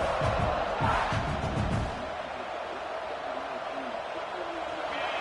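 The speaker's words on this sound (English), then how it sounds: "this crowd coming to life here, trying to help the defense get a stop" Stadium crowd noise in a college football video game, a loud roar at first that drops to a softer background rumble, with no voices speaking over it.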